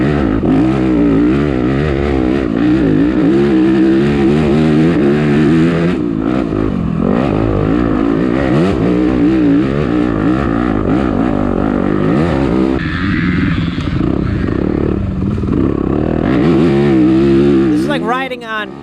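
A stock Yamaha YZ250F dirt bike races through a muddy harescramble, its engine roaring loud and close throughout, the pitch rising and falling as the rider works the throttle and shifts.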